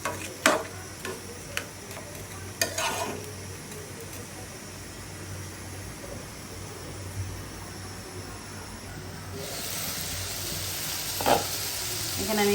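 Amaranth stalks fry in a pan with a steady close sizzle, broken by occasional sharp ticks and clinks of stirring, the hiss swelling louder toward the end, with a voice faintly in the background.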